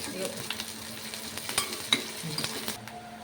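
Curry leaves, broken by hand, crackle and sizzle as they hit hot oil in a frying pan, a steady bright hiss with sharp spits and pops through the whole stretch, close by, with faint clinks of utensils.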